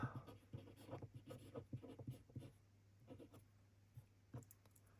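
Pen writing by hand on paper during a quiet ASMR recording of 2026 F1 Australian Grand Prix results, soft close scratching strokes in short bursts with brief pauses, no talking.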